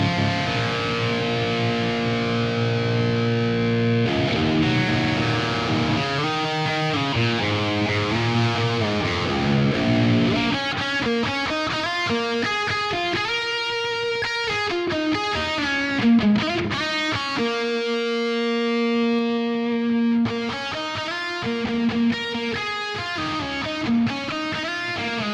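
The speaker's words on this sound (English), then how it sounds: "I'm going to go for the hall reverb this time" An electric guitar through a Sonulab StompStation plays sustained chords and melodic lines drenched in long, spacious hall reverb with a high mix, notes ringing and blending as they decay.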